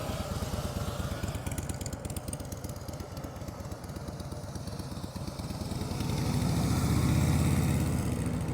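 A motorcycle is ridden slowly through a practice course of cones, its engine putting out a steady low, close putter that swells to a deeper, louder drone near the end.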